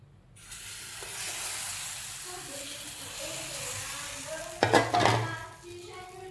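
A breakfast item roasting in a hot pan, with a soft steady sizzle that swells when more batter is added, followed by a brief louder burst of frying and a scrape.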